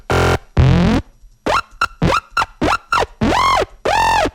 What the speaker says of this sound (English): hard sync is essentially a synced saw wave